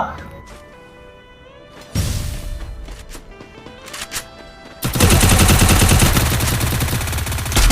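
Rapid bursts of SCAR and UMP gunfire in the Free Fire video game, loud dense automatic rattles with sharp crashes over game music, a voice speaking at points.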